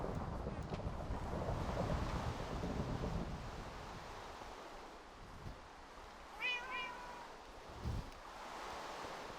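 A pet cat meows twice in a row, short rising calls over a background of wind-like hiss and a quiet voice, fairly close to the microphone.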